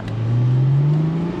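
A Porsche Boxster GTS engine pulls smoothly on throttle, a steady rising hum that holds briefly and close, with no talk over it.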